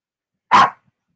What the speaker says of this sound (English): my wife's dog is going nuts.